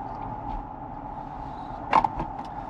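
A Kia electric car travels at highway speed, giving a steady low road hum and faint cabin whine, with a brief clunk or rattle near the end.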